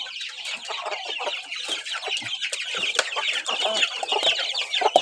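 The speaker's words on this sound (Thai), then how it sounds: "นี่ก็ลูกเจี๊ยบ" Hens cluck busily with high chick peeps chirping throughout, a dense, continuous barnyard chatter close by at evening feeding.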